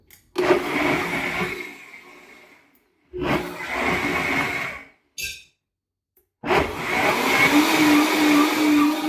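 A blender whirs loudly through roasted butternut squash soup in three separate runs, starting and stopping abruptly with brief silences between, the motor pitch steady while it churns.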